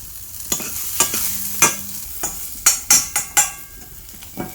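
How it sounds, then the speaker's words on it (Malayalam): Onions sautéing in a pan, with a steady sizzle of frying under a series of sharp stirring scrapes and clacks at irregular intervals, close and fairly loud, no talking. "ഉള്ളി ഒന്ന് വാടിയാൽ മതി"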